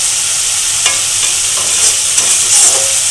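Khichuri spice paste stir-frying in oil, a loud bright crackling sizzle with scraping stirs, steady and close, no one speaking.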